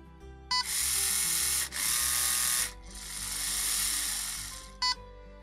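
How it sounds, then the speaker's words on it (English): A LEGO EV3 motor whirring as it runs one way, then the other, then shifts speed, a loud close whine in long stretches separated by brief pauses and clicks. "I have a simple script which will just turn the motor on in one direction, in the other, and then alternate the speed for a while."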